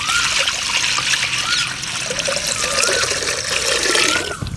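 Water is poured into a bowl over pounded nannari roots, a continuous trickling and splashing stream that runs loud and steady from start to finish.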